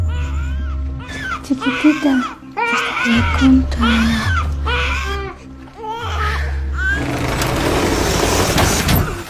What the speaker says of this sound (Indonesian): suara yang dihasilkan membuat si bayi menangis